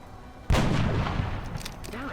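A weapon fires in a video game battle, one sudden loud blast that cuts in abruptly and then trails off into sustained rumbling noise with a few sharp crackles.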